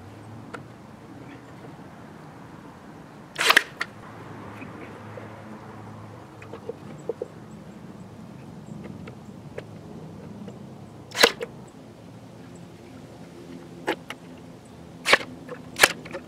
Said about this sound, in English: I'm just gonna shoot me a couple nails just to hold it so I can secure it